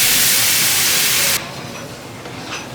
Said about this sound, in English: Then add a cup of your favorite white wine.